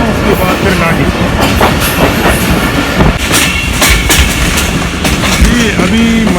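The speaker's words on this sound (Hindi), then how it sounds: "अचानक ये आ गया ये पाकिस्तान एक्सप्रेस" Pakistan Express passenger train running on the rails in Pakistan, loud steady rumble with rhythmic clickety-clack of wheels over rail joints, heard from close by and continuing throughout.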